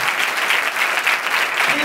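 Brief burst of dense audience applause at a talk, loud and continuous, with a voice faintly audible underneath.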